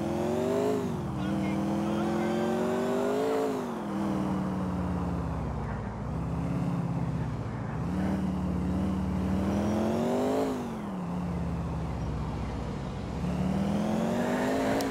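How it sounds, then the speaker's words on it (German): A Sultan car in GTA 4 drives with a loud, steady engine drone that rises and falls as it speeds up and eases off, close and continuous throughout. "Ich hab ne Karre, endlich Sultan."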